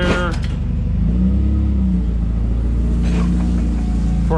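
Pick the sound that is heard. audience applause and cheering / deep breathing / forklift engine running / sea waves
forklift engine running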